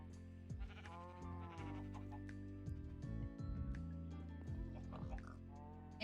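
Minecraft sheep bleating in repeated, fairly loud in-game calls, mixed with other game sounds and background music-like tones, with no talking.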